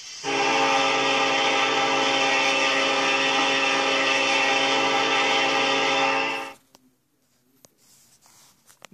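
A Ferromex EMD SD70ACE locomotive horn in the Trainz game sounds one long, loud, sustained chord for about six seconds, then cuts off to near silence with faint clicks.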